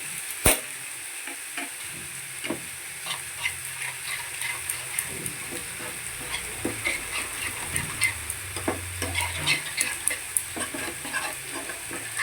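Spices made into a paste with chili, turmeric, cumin and coriander powder sizzle in a pan for a banana kofta curry, a steady hiss broken by soft scraping stirs and small clinks, close by with no talking.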